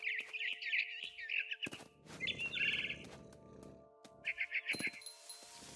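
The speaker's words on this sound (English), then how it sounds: "Then I heard chirping outside my window." Bright, rapid barn swallow chirps from a video game come in short bursts with pauses, mixed with some low rustling noise in the middle; fairly close and clear.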